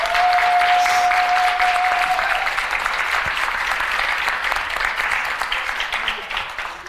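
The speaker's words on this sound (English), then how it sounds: "So can we give my dad a round of applause?" Full-room applause at a holiday event's opening ceremony, loud at first, then gradually tapering, with a sustained whistle-like tone early on and faint voices under the clapping.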